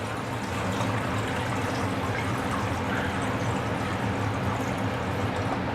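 Nutrient solution poured steadily into a DIY hydroponic herb container, a continuous rushing, gurgling stream of liquid filling the tub, fairly close and unbroken, with no talking.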